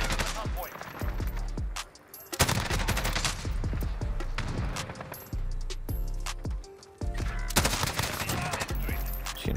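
Gunfire in the video game Call of Duty Warzone: rapid bursts of close, loud shots with metallic clinks of falling casings, pausing briefly twice before the firing resumes.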